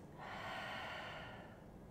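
A single deep breath pushed out during a vinyasa yoga home workout, a broad airy rush that swells quickly and holds steady for over a second before easing off, close and alone with no talk.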